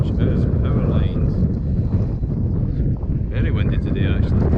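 Strong gusts buffet the microphone outdoors in a farm field on a windy day, producing a constant loud low rumble. Someone talks through it, and a faint whine rises and falls in the background.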